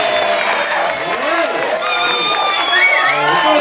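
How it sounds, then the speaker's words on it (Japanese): Applause and cheering from the audience at a live music session, brisk clapping mixed with a few shouts and whoops, with lively voices and talk running through it. "盛大な拍手。"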